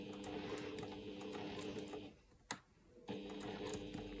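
A sewing machine stitches a quilt block seam for a bow-tie block with a steady, close whirring hum, stopping for about a second with a single sharp click, then running again at the same pace.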